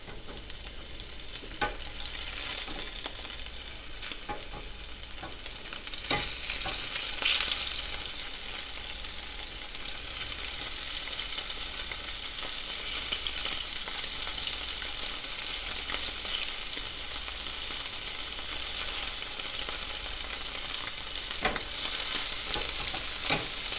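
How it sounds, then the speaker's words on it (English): Scallops browning in a pan of oil brought to smoke point, a steady close sizzle and crackle running throughout with occasional sharper pops and utensil stirs, no voices. "Now all I'm going to do is brown both sides of the scallops"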